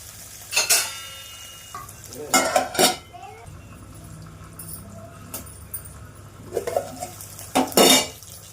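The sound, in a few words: frying fenugreek seeds in oil in a pan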